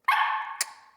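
A female puppy lets out a single sharp bark, close and loud, that fades quickly, followed by a brief faint click.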